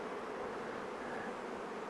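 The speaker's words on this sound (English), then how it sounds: "with the amount of bees I see here" A dense swarm of honeybees hums steadily around a hive on a cool spring day, a continuous close buzzing drone with no voices.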